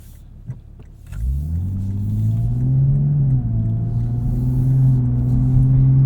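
A 2023 Lexus IS 350 F Sport AWD with a six-speed automatic pulls away and accelerates, its engine note rising into a steady, loud drone that holds strongly through the rest of the drive.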